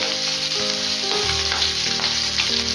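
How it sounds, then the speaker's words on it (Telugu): Green chillies stuffed with masala fry in hot oil with a loud, continuous hiss and crackle, steady throughout and heard close up without any voices. "ఆయిల్ వేడెక్కింది ఇప్పుడు మసాలా నింపుకున్నటువంటి పచ్చిమిర్చి యాడ్ చేసుకోవాలి"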